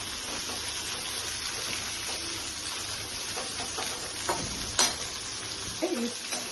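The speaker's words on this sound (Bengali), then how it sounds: "বেগুনগুলোকে ফ্রাই করে নিচ্ছি।" Brinjal pieces frying in a pan give a continuous close sizzle, with a few louder spits and utensil clinks near the end.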